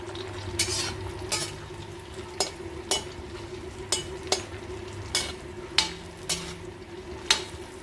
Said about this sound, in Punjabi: ਭਿੰਡੀਆਂ ਜ਼ਿਆਦਾ ਤੁਹਾਨੂੰ ਪਤਾ ਟਾਈਮ ਨਹੀਂ ਲੈਂਦੀਆਂ ਹੁੰਦੀਆਂ ਫਰਾਈ ਹੋਣ ਲੱਗਿਆ